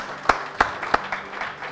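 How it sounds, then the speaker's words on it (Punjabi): A few sharp hand claps ring out from a studio audience at a cooking competition's grand finale, spaced roughly a third of a second apart before trailing into softer, scattered clapping. "ਸੋ ਇੱਕ ਵਾਰ ਜ਼ੋਰਦਾਰ ਤਾੜੀਆਂ ਦੇ ਪਰਿਵਾਰ ਦੇ ਲਈ"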